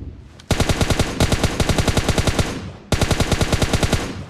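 Rapid automatic rifle bursts in PUBG Mobile on the Erangel map, three loud, evenly spaced volleys of rhythmic shots separated by short pauses.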